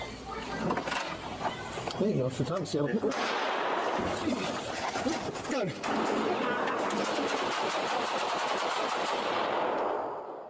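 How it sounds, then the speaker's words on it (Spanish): Bursts of rapid gunfire from police officers during a police operation in Seattle crackle at a distance, shots coming in quick clusters, followed by a long steady roar of noise; voices are heard briefly. "te pido simplemente que escuches los tiros, la frecuencia de los tiros"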